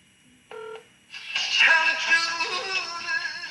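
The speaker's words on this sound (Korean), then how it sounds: "자 이번에는 카톡으로 전화를 걸도록 하겠습니다" KakaoTalk voice call being placed on a phone: a short electronic beep tone, then a bright melodic ringback tune with layered synthetic notes playing steadily to the end, fairly close and clear.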